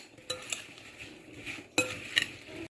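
A spoon stirring cinnamon-coated apple crisp filling in a bowl, close and quiet scraping with a few distinct clinks against the side, two louder knocks near the end.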